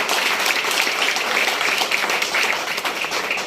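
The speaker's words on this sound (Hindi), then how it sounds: "जोरदार तालियां दीजिए।" A business sharing event on stage draws dense, continuous clapping from a crowd, loud and even throughout the short stretch with no pause.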